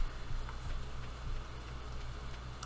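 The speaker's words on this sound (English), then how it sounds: "And it's raining on the 7th." Steady rain falls in a farming video game, a soft, even hiss of drops with a low background hum and a few faint ticks, quiet and unbroken throughout.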